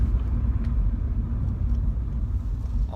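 A Mini Cooper S F56 drives along, its engine and road noise forming a steady low rumble heard from inside the car, with no talking.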